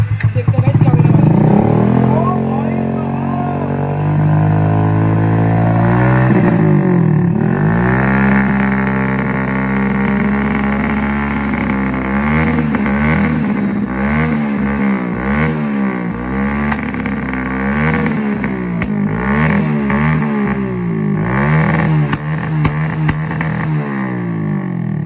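A fully modified Passion Pro motorcycle fitted with an Akrapovic full-system exhaust revs loudly and close by, its engine note rising and falling repeatedly over a sustained idle.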